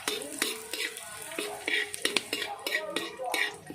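Vegetables for lumpia being stirred in a pan, with repeated metallic scrapes and clinks of a utensil against the pan in an irregular rhythm, close by, over a faint sizzle.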